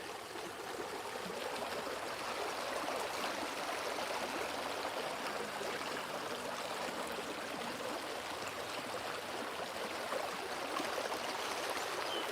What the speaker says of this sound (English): I like this river.